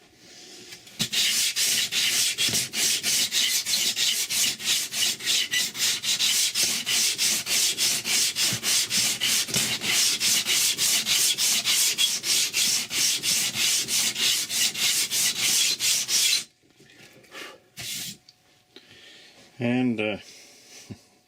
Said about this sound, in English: it's going to take a while to sand it up